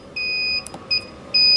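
A Fieldpiece MR45 refrigerant recovery machine's electronic alarm beeps in steady high-pitched tones, three separate beeps with short gaps, against a quiet background hum.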